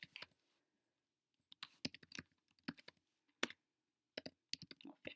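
Fingers type on a computer keyboard in quiet, close, irregular bursts of sharp clicks separated by short pauses, with no voices.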